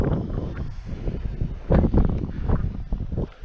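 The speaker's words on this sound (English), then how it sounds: "A little windy out here" Wind gusts buffet the microphone at a river spillway during a fishing trip, a continuous rough rumble that swells into stronger bursts partway through, with no talking.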